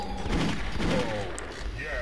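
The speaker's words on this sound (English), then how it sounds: "I'll zoom in and shoot you in the gun." Gunfire from the Robocop video game, a dense burst of repeated shots and impacts over about two seconds, fairly loud and steady, with game effects layered underneath.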